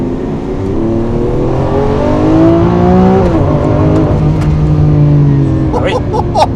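Lamborghini Aventador SV with its V12 engine revving hard, a loud, rising harmonic roar that climbs, drops and climbs again, heard from inside the car with people talking over it.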